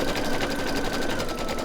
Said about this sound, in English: Oh, thread break. Did you hear that? It stopped.